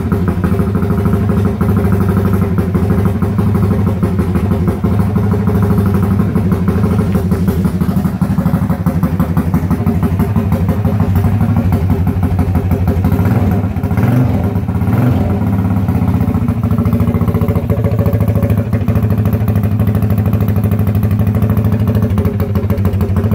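A Ducati 450 cafe racer single-cylinder engine runs after a kick start, a loud, steady close-up idle with a dense rhythmic thump and mechanical clatter that swells slightly midway.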